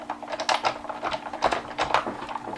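Card stock feeds through a hand-cranked die cutting machine, a quick series of clicking, ratcheting clatters in short uneven bursts, close and fairly crisp.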